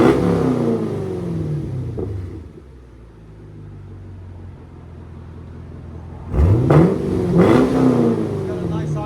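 A Chevy Camaro SS with a 6.2L V8 and CARVEN exhaust revs loudly up close, settles to a lower idle, then is revved hard twice more with rising and falling roars.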